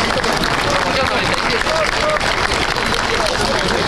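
At a gala concert by a school alumni band, an audience claps loudly and continuously during an award presentation, a thick, steady wash of applause with faint crowd murmur.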